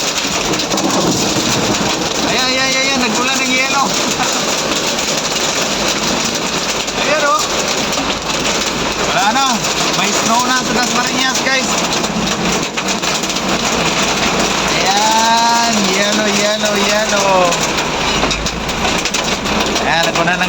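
Hailstones pelt down during a storm in Dasmariñas, Cavite, a dense, continuous loud clatter lasting throughout, with excited voices exclaiming over it.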